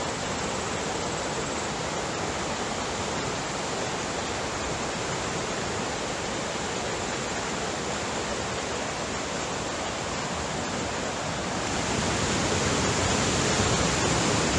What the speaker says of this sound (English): This water is raging.